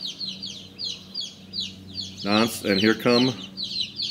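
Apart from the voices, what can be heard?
hens clucking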